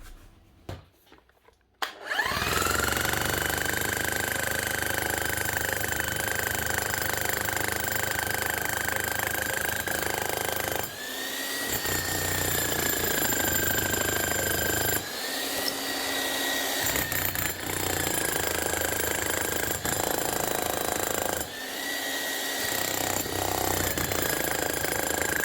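A repaired Bosch or Milwaukee rotary hammer runs under test, a loud steady motor whine with harmonic tones that cuts out briefly three times and restarts, each burst running several seconds.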